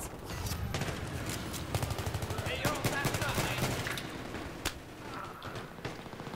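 Gunfire in Battlefield 3: rapid, rattling bursts of automatic shots, then several more scattered single shots, all mixed with game noise and some faint talk.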